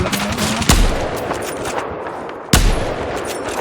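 Gunfire in the video game Battlefield 4, with a steady rattle of shots and two sharp, loud blasts standing out against the constant noisy din of battle.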